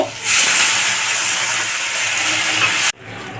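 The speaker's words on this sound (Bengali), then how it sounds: "তো এখন এর মধ্যে জল দিয়ে দেব" Water poured onto fried spice paste in a pan bursts into loud, close hissing steam that holds steadily for a few seconds, then cuts off abruptly.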